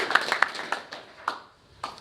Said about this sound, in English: let's give them a warm round of applause and a welcome